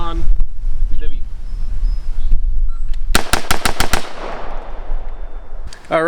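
Rapid string of about six gunshots from an ACR rifle fitted with a heavy Mil-Spec trigger, loud and closely spaced, ringing out over wind and outdoor rumble, with a brief voice just before.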